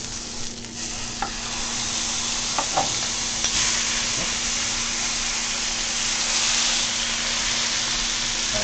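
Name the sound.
pork chops searing in a pan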